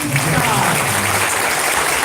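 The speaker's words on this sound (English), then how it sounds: "Ladies and gentlemen, a big round of applause for Tan Sri Dr. Lee." Steady applause from a crowd fills the space, dense clapping mixed with indistinct voices underneath.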